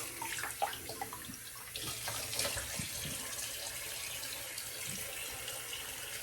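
Cold water runs steadily from a tap into a sink for the whole stretch, a continuous close splashing rush with no talk over it.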